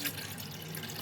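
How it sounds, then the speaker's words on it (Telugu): Water pours into a cooking pot for sago and vermicelli payasam, a brief steady splashing rush alone, close by. "ఒక గిన్నెలో నీళ్లు పోసుకొని"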